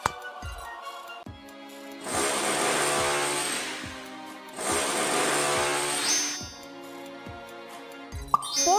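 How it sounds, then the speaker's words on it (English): A power drill whirs in two sustained bursts of a few seconds each as it bores a hole in a plastic bottle in a mobile game, with clicks and a rhythmic ticking pulse between them over background music. "Make a hole with a driller."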